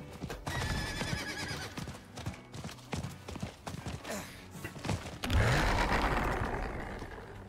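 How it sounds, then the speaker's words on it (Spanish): Horse in the video game Diablo 4, a rapid clip-clop of hooves followed by a loud whinny, up close and with no talking. "A ver, caballito."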